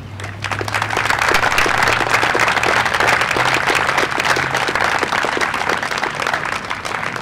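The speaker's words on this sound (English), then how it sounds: "please stand so you get a deserving round of applause" Sustained applause from a crowd at a park dedication ceremony, steady and dense throughout, with a low murmur beneath.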